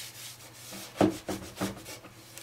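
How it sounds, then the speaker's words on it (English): A cloth wipes stain across a vintage wooden drawer face during a chest refurbishment, giving soft, close rubbing strokes, with three firmer swipes in a row near the middle. "I'll work that in to all the small little defects and scratches."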